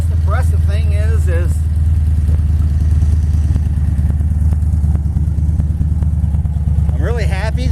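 A 1980 Dodge 360 Mopar small block V8 idles steadily with a deep, even rumble and exhaust burble throughout, with a person briefly talking over it at the start and end.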